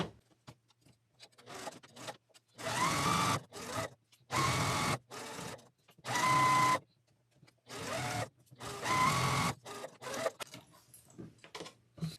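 A sewing machine stitches quilt rows together for a scrap placemat in several loud, steady whirring runs of one to two seconds each, separated by short pauses and light handling noises.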